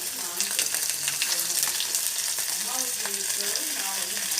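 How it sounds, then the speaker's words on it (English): Steady crackling sizzle of paneer frying in a hot pan, continuous throughout with faint clinks and a soft voice now and then. "We have just fried the paneer."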